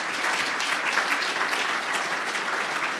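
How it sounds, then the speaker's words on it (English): An audience applauds presenters with steady, dense clapping that holds evenly throughout, no voices above it. "let's give the presenters a round of applause"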